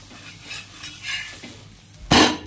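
Egg uttapam being flipped in a pan: a soft scraping and stirring clatter, then one sharp, loud sizzle burst near the end as the uttapam lands back on the hot surface.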